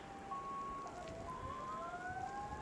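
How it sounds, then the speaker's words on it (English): A fire engine siren wails faintly in the distance through a spring blizzard, its rising and falling tone drifting over a steady wash of wind and snow noise. "Fire engine, it sounds like."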